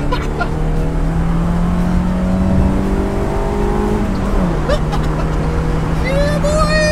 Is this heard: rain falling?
no